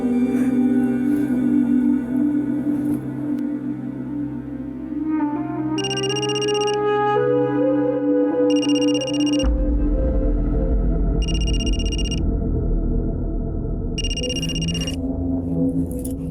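A telephone rings in four evenly spaced electronic bursts over a loud, dramatic background music bed, each ring sharp and bright, and the ringing stops unanswered.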